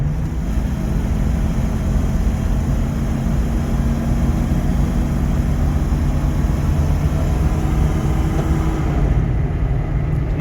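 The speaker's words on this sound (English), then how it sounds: "Nothing wrong with the power this car has." 1977 Ford Country Squire wagon with new exhaust cruising at highway speed near 60–70 mph, a continuous low engine rumble and road roar with steady hum, no talking.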